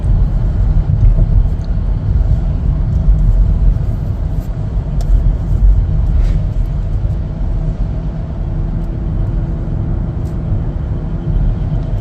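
A 2025 Chevrolet Blazer 2LT accelerating and driving, heard from inside as a loud, steady low road and engine rumble that holds for the whole stretch without pauses.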